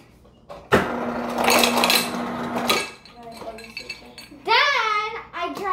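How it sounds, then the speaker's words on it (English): Ice cubes dropped into a drinking glass, a loud burst of clinking and rattling lasting about two seconds, followed by quieter handling sounds and a voice. "Let me grab the glass. All right, so first step, I take some ice."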